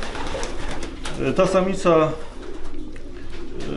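Van Open Luyten racing pigeons coo in short throaty bursts close by, with a person speaking briefly over them.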